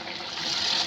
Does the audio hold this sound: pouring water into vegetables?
yes